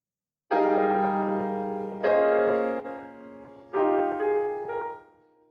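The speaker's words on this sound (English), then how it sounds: "a chord progression that sounds like this" A sustained chord progression played alone: three rich, ringing chords, each struck and held, fading gradually before the next enters.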